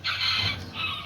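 A rather untamed backyard rooster, kept among azteca and serama chickens, gives a short, close, rasping call in two quick bursts lasting barely a second.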